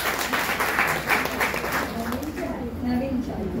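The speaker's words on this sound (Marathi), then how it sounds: "काकूंसाठी एकदा जोरदार टाळ्या घेऊया." Applause from an audience at a cultural music program rises under a speaking voice, a moderate wash of clapping that fades near the end.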